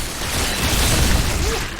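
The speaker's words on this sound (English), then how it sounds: "Oh my god, it's corpse explosion." A Necromancer's corpse explosion skill going off in Diablo III, a dense rumbling burst of blasts filling the scene, loud and sustained for a moment amid game noise.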